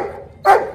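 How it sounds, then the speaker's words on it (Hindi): A Rottweiler gives one short, loud, close bark after a brief lower growl-like sound, alone without talk. "बांधते ही ये देख के भौंकने लग गया"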